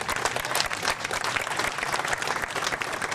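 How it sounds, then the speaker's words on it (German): Spectators applaud a motorcycle road racer at an IRRC race ceremony in Frohburg, a dense, loud burst of clapping that stays steady for the whole few seconds, close and without talk. "ein Applaus für Tom."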